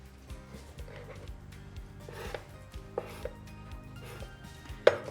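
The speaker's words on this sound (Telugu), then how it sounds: "సైడ్స్ కట్ చేసేసి చిన్న చిన్న పీసెస్ లాగా కట్ చేసుకొని" A knife chops slices of bread into small pieces on a board in a home kitchen, with a steady series of close, soft thuds and light crunches, several quick cuts repeating throughout, a brief sharp clink near the end.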